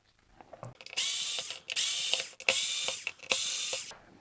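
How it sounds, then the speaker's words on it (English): Small screws being backed out of a whip handle, heard as a close, quiet run of ratcheting screwdriver bursts and clicks in four or five spurts with short pauses between. "I'm going to back these screws out all the way"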